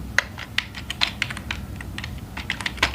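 Code is typed on a computer keyboard for a Laravel web project, with brisk, close clicking keystrokes in uneven bursts and no voices.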